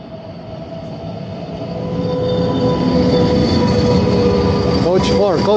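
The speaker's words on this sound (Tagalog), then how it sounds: "Ito na yung train natin, guys." A train pulls into a station, with a loud, steady rumble of rolling cars building up and high metallic wheel squeals near the end, as people chatter in the background.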